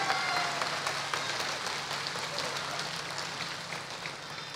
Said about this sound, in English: And let's thank them with a warm round of applause.